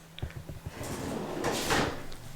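A deep tool drawer in a utility room slides and thumps, a few quick knocks followed by a longer rolling scrape and a soft close, close by with no voices.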